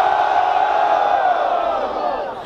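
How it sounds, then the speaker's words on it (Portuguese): A crowd at the final of a student rap battle in Guarulhos, São Paulo, roars and shouts for an MC in a loud, sustained wall of cheering that fades slightly at the end. "Barulhos e mão pro alto pro Tavinho"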